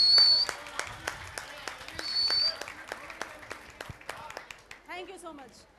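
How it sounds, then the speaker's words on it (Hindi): Scattered clapping from a small audience at a Garhwali film trailer and music launch, a few distinct claps giving way to sparse hand strikes, with a high tone and a voice near the end. "एक बार अपने लिए ज़ोरदार तालियां"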